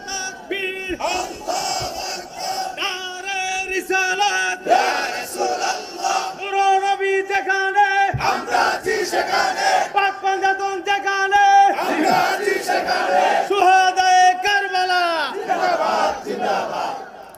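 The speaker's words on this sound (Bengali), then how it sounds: "কারা কারা হুসাইনি মুসলমান দুই হাত তুলেন না, একটা স্লোগান লাগান না দেখি ইনশাআল্লাহ" A large crowd at a religious sermon gathering chants a slogan in unison, loud rhythmic massed voices rising and falling in repeated phrases for the whole stretch.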